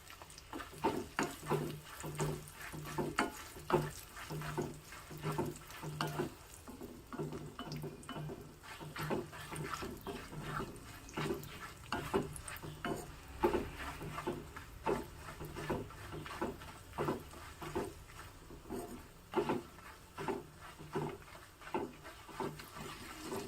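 Dried red chillies and chopped dried coconut sizzle in hot oil for a tempering, with a steady run of small crackles and pops at close range, fairly soft, and no talking.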